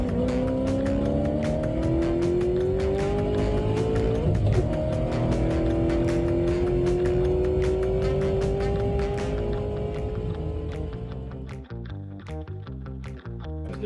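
Muscle-class race cars of the MCM American Muscle group roar past on a track straightaway, their loud, sustained engine notes sliding in pitch as they pass, with a throatier burst of engine noise near the end.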